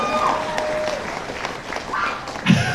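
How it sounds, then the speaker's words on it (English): A Hall H audience claps for the Tales of the Walking Dead panel at San Diego Comic-Con 2022, a moderate, scattered round with a few voices and whoops mixed in and a louder burst near the end. "that's okay, you can clap"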